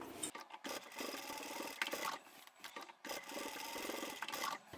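A sewing machine stitches elastic onto a fabric apron in two steady runs of rapid mechanical whirring, with a short pause between them, close and fairly quiet.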